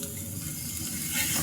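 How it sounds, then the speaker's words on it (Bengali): Spice paste for a prawn malaikari sizzles steadily in a pan, a close, continuous frying hiss with soft stirring. "মশলাটাকে আমি সুন্দর করে কষিয়ে"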